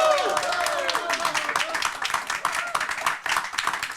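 A live television studio audience claps together, a crisp rhythmic burst of many hands that gradually thins out, with a voice speaking briefly under the clapping.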